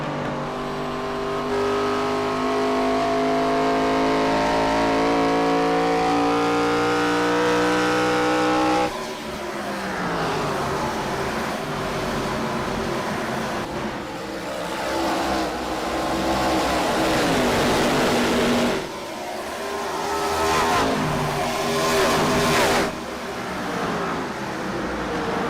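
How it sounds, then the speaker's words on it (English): IROC race cars on a bumpy speedway, engines roaring loudly as they accelerate and pass in waves, rising and falling engine pitch sustained throughout, with no talk. "These cars are dancing around the speedway."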